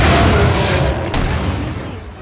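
A grenade explodes in the Dragon's Dogma video game, a loud, broad boom that fills the first second and then rumbles and fades out, with speech-like sound overlapping it.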